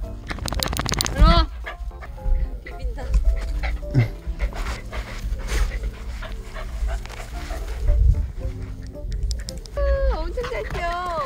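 Several dogs resting after running races outdoors pant close by, with soft whimpers and short yips scattered through, while someone talks over them.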